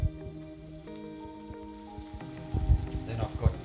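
Pressed garlic cloves dropped into a sizzling pan, a soft crackling fry under faint sustained background music, growing into louder pops and spatters near the end.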